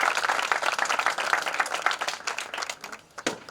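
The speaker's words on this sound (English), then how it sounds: "I think you should all just give yourselves a round of applause for what you've achieved here today." Applause from an audience at the launch of new radio studios, a dense patter of many hands clapping steadily and fairly loud, thinning out near the end with a few final claps.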